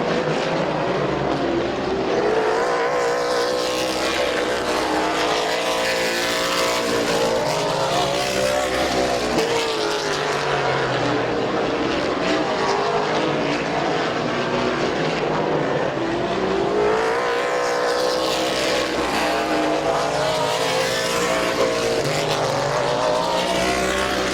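Race cars roaring around Midvale Speedway, a loud continuous engine drone with rising and falling pitch as cars pass and accelerate, dense and close throughout.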